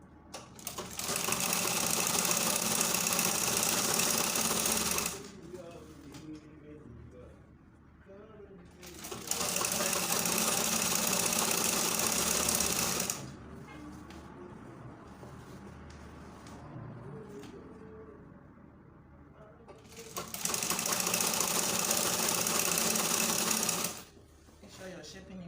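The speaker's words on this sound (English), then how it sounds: "you continue sewing like so from the waist to the hip." A sewing machine stitches skirt lining from waist to hip in three long, steady whirring runs, each about four seconds, close and even, with quieter gaps of handling between them.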